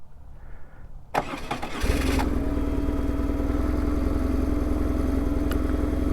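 A fuel-injected BMW R1100R boxer-twin motorcycle cranks briefly with a starter whir, catches and settles into a steady, loud, close idle that runs on alone.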